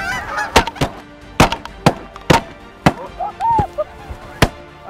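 On a waterfowl hunt, Canada geese call with loud, clear honks between several sharp, close shotgun blasts.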